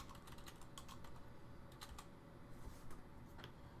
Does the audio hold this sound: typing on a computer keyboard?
yes